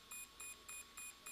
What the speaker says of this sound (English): we're going to be switching this thing on and waiting for two beeps